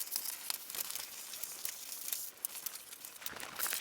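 Scissors cutting out a paper tracing of a foot, a steady run of soft crinkling and snipping paper sounds close by, with no talking.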